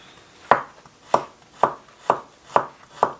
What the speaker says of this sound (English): So for the start, I'll have to mince up this garlic.